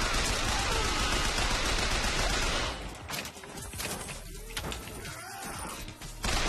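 Heavy gunfire in BioShock Infinite, a dense roar of rapid shots for the first few seconds, then scattered impacts and crashing debris before the firing resumes briefly at the end.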